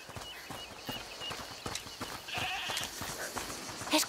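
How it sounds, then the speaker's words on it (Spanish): In A Plague Tale: Requiem, a goat gives a short bleat over quiet game ambience, with soft tapping and shuffling footsteps, faint and somewhat distant. "Escuchad, ¿es la cabra que mencionó?"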